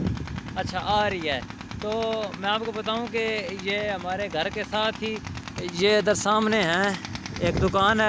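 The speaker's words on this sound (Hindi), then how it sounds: "तो इन दुकान वालों ने चक्की चलाई हुई है, आटा चक्की, तो ये उसकी आवाज़ है।" An atta chakki flour mill running at a shop right beside a house gives off a continuous rattling mechanical drone, loud and close, while someone speaks over it throughout.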